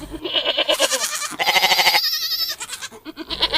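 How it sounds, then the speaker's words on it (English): Goats on a beach bleating loudly and close, several overlapping wavering cries in quick succession, with brief gaps between calls. "Robinson Crusoe and his dog ran up and down the beach after the goats"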